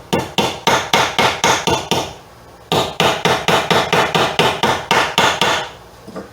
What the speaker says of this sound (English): the ones on the end, I'm just going to hammer them in